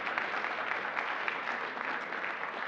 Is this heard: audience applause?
yes